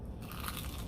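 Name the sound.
biting into crunchy crispy fried chicken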